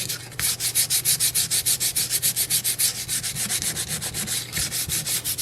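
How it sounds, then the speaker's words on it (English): A painted surface is sanded by hand with quick, even back-and-forth strokes, a loud, close rasping rhythm of roughly five strokes per second, with no talking. "So I'm going to go ahead and do a little bit of sanding."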